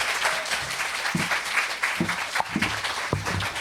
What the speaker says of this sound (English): Please give a big round of applause for Jean Kwok.